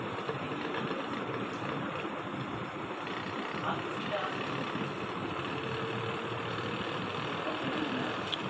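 An AC ceiling fan converted to run on 12-volt DC, spinning unloaded at high speed, gives a steady, even whirring hum that stays at the same loudness for the whole stretch.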